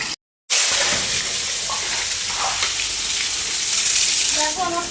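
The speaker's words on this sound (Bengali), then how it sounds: "জলগুলো ভরে নিই, ভরে নিয়ে স্নান করবো।" Running water pours steadily into a bucket in a bathroom for bathing, a continuous broadband rush with a short silent gap near the start and small splashy clinks toward the end.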